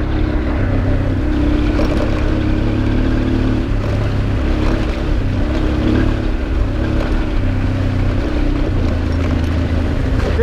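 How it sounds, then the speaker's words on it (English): A motorcycle rides along a muddy road on the Brazilian coast near Ubatuba and Angra dos Reis, its continuous engine drone blended with heavy, steady wind rush and no talking. "Isn't a motorcycle the most amazing machine in the world"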